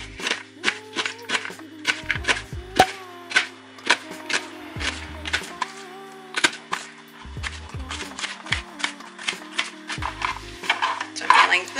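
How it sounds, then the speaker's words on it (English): A knife chops an onion on a cutting board in quick, evenly spaced taps that continue for several seconds, with a faint steady hum behind and a little talking. "How do you cut an onion elegantly?"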